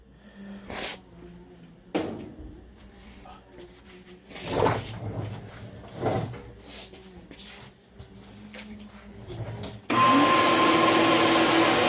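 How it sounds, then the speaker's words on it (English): Quiet clunks and scraping inside a wood burner, then a shop vacuum switches on and roars loudly and steadily while it clears out the ashes. "I'll use the shop vac to get the rest of it out."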